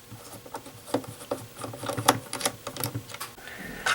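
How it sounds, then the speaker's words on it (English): Screws being taken out of a Fisher-Price PXL 2000 camcorder, a close run of small irregular plastic clicks and light taps, with a faint hiss starting near the end. "Let's start by removing these screws."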